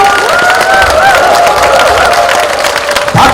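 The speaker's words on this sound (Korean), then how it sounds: "여러분 큰 박수와 함성 부탁드립니다." Loud applause and cheering from a crowd of local citizens at a National Assembly member's 2024 constituency report rally, steady broadband clapping with shouts and whistling tones throughout.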